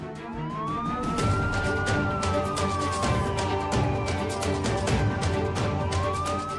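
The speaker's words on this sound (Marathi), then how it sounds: "क्या रात्री सायरन?" A police siren wails at night, its rising and falling tone sweeping steadily over a dense urban background with no talking.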